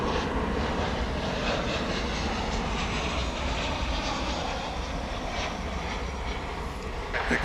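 An airliner at DFW International Airport at night produces a steady, fairly loud jet engine roar that holds constant through the whole stretch with no voices.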